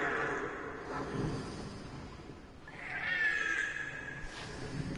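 A cat meows in drawn-out, wavering calls, a long plaintive one near the middle, faint and close, with a quiet room background.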